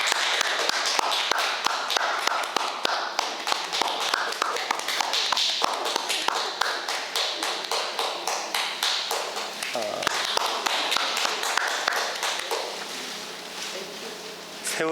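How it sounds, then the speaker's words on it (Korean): A church congregation claps at a Sunday service where deacons are appointed: sustained, dense applause with many hands tapping in quick, uneven rhythm for the whole stretch, fairly close and steady. "박수 부탁드리겠습니다"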